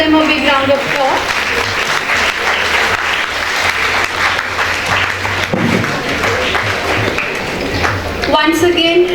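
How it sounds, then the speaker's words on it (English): Sustained applause from an audience at an award ceremony for achievers, many hands clapping steadily for several seconds, with a voice briefly audible at the edges. "Kindly give them a big round of applause."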